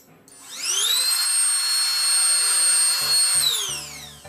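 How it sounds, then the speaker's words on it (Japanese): A rechargeable SHUっとね air duster blows dust off a small fine filter: a steady, loud high-pitched motor whine that spins up quickly, holds for about three seconds, then winds down, with no talking. "この小さなフィルターのホコリを吹き飛ばす。"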